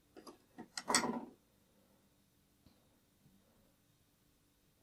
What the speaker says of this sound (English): And I will cut my thread